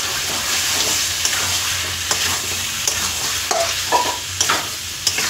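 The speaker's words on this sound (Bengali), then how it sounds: "এবার ভালো করে এটা কষাতে হবে।" Chicken curry with potatoes and spices sautéing in a pan for a red chicken jhol, with a steady close sizzle and repeated scraping stirs of a spatula throughout, no voices.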